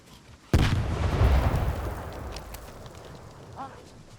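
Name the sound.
grenade explosion in a video game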